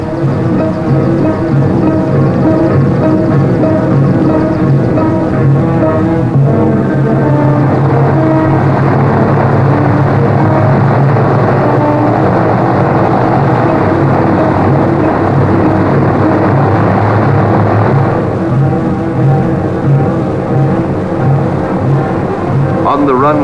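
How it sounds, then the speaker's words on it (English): Piston engines of a 1950 Pan American Boeing 377 Stratocruiser airliner drone loudly and steadily as the big plane starts to move toward the runway, a continuous close rumble with no talk. "Co-pilot gets the go-ahead signal by radio from the field control tower, and the big plane is set to move."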